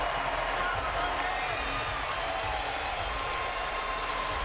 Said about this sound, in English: That's the sound of people who were entertained.